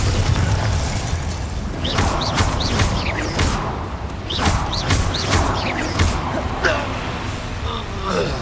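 A Bombarda explosion spell fires in Hogwarts Legacy amid close combat: repeated booming blasts and crashes over a constant low rumble, with bright bursts every second or so.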